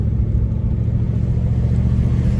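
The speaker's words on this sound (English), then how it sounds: "It's just so nice to drive the car" Cadillac Seville Elegante being driven, heard from inside as a steady low engine and road rumble, constant and fairly loud with no talking.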